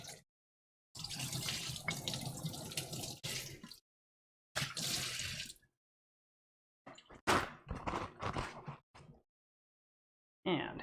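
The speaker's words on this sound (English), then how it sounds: "Nice little rinse." A kitchen tap running as a ramekin is rinsed: several bursts of splashing water, switched on and off with short silent gaps, close and moderately quiet.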